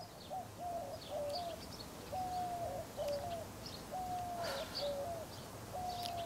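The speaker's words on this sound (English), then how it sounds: "Listen to those birds." Faint outdoor birdsong in Tucson: a steady series of short whistled notes repeating rhythmically over a soft background hiss, with a few other chirps in the distance.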